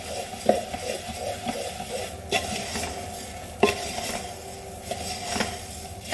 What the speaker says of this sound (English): So now that we have the onion in there, we're going to go ahead and toss that around.